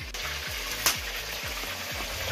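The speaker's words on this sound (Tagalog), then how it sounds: "iprito po natin ang napakasarap na breadfruit" Breadfruit fries in hot oil with a continuous bright sizzle, while a regular low thumping repeats underneath at a steady pace and no one speaks.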